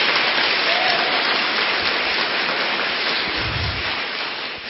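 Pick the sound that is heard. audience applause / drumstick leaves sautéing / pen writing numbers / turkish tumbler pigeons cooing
audience applause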